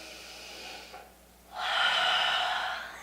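Deep, audible breathing in a quiet yoga session while holding a forward fold: a soft exhale, a brief hush, then a long, strong airy inhale that fills the rest of the moment, close and unaccompanied.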